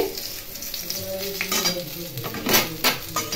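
Green chilies, dried chilies and nigella seeds spluttering in hot oil left from frying hilsa fish heads, a busy close sizzle punctuated by spoon scrapes and metallic pan clinks.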